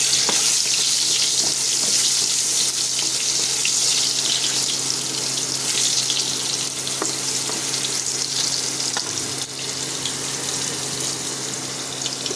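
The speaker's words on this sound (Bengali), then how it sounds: "এবার আমি দিয়ে দেবো গোটা জিরে, দিয়ে দেবো আলুটা।" Whole cumin and potatoes fry in hot oil in a pan, giving a loud, dense, continuous sizzle close by that holds steady throughout, with a few faint clinks and no voices.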